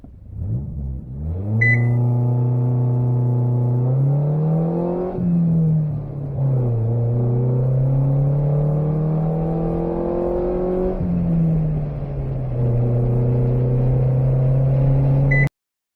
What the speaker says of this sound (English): let's see how fast this thing can accelerate with the factory fuel injection system